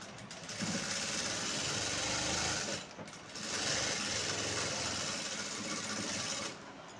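A sewing machine stitching a straight seam to join a patti piece on a blouse, running in two steady whirring bursts separated by a short pause, close and fairly even.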